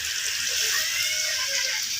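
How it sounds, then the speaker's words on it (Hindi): Water poured into a karahi pan over a lit stove makes a steady, continuous splashing pour, close and moderately loud, with no voices. "अभी थोड़ा सा पानी ऐड करेंगे।"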